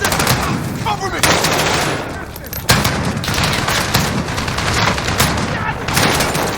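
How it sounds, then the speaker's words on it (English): Rapid automatic gunfire from Call of Duty: Modern Warfare 2019, a loud close fusillade of bursts and booms in a combat scene, with shouted voices over the shooting. "Enemy shooting at position!"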